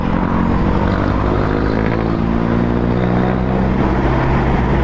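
A jeepney engine idling and running in hot traffic on EDSA in Caloocan, a loud continuous diesel drone with steady harmonic hum and surrounding vehicle noise, heard alone without talk.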